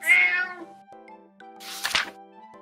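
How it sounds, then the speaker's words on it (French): A cat meows twice, a drawn-out mew followed by a brighter, louder one, heard over soft background music with no talking. "Cat."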